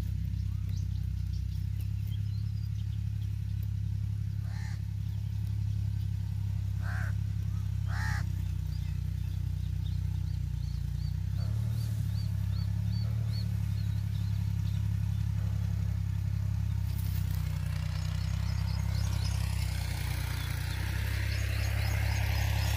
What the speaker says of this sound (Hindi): ट्रैक्टर वाला हल चला रहा है,